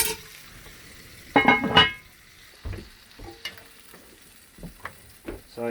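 Pork searing in a heated camp oven outdoors, a loud burst of hissing sizzle early on followed by scattered knocks, scrapes and shorter sizzle bursts against a quiet background.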